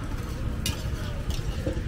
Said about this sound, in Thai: ทอดมันทอดในหม้อเลยอ่ะ